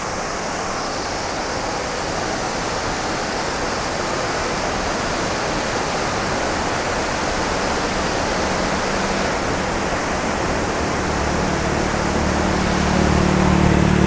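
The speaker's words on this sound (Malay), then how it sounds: "Okay, tu air terjun dia." Waterfall on a jungle road at Sumpitan, a steady, loud, broadband roar of falling water that continues unbroken and grows slightly stronger toward the end, with no talk.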